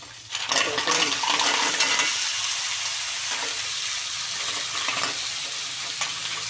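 Batutoy sizzles and hisses as it is sautéed and stirred in a hot frying pan, with scraping and clinking of a utensil against the pan, up close and steady throughout.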